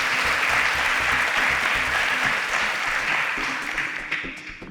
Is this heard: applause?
yes